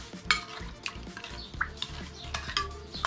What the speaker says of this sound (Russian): Растворяем соль в воде